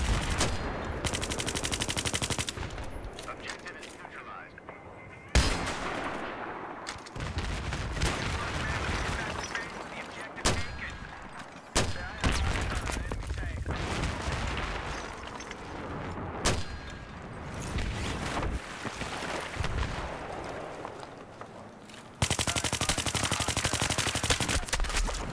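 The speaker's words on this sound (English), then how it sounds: "Got a mortar on top of the building here." Sustained gunfire and machine-gun bursts with heavy booms from a Battlefield 3 multiplayer battle in the Gulf of Oman, a mortar firing from a rooftop, loud and dense throughout, with several sharp blasts punctuating the continuous fire.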